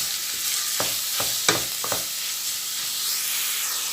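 Minced pork sizzles steadily in a hot pan for Thai larb, with a spatula tapping and scraping the pan several times over the continuous frying hiss.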